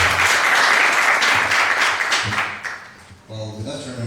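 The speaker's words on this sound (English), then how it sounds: "So clap your hands for them, please." An audience claps for contestants at a public speaking competition final, a loud steady burst of applause that thins out near the end, with voices talking over it.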